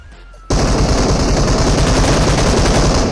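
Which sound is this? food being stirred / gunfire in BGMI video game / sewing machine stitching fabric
gunfire in BGMI video game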